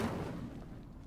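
Incendio fire spell cast in the video game Hogwarts Legacy, a short burst with a loud fiery whoosh and boom at the start that fades into a rumbling tail over about a second.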